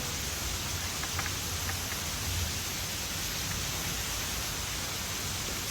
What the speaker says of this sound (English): Sorry to run that vacuum on you guys the whole time.